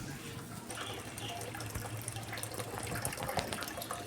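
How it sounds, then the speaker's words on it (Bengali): Water running into a tub, a continuous soft gush and splash that builds slightly toward the end, moderately quiet and close, no talking. "এই যে তার মাঝে মাঝে জল ভরতে হচ্ছে। এই গামলা ভরলাম"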